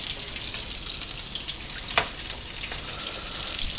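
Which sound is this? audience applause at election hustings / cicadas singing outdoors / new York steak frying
new York steak frying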